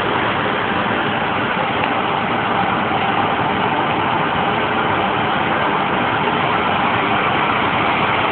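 A Boeing 777 jet engine runs up to power, a steady broad roar that stays loud and unbroken throughout, with no voices.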